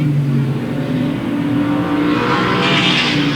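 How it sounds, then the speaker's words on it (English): Late model race cars roar past onto a speedway's front straightaway, several engines overlapping at high revs, loud and sustained with a rising wash as they pass. "those top 3 cars move onto the front straightaway now with 6 laps remaining"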